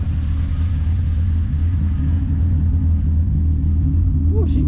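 VR6 engine car running near the microphone, a steady deep low rumble with even idle pulses throughout, a short voice exclamation at the end.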